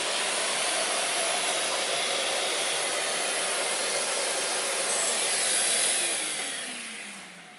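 A Henry HVB-160 cordless vacuum cleaner runs at close range over a floor with a steady, loud airy whoosh, then fades away near the end.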